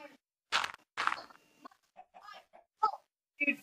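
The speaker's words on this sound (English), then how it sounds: "We find, but we have chickens here." Chickens in the Minecraft video game give several short, sharp clucks in quick irregular bursts, moderately faint against a quiet background.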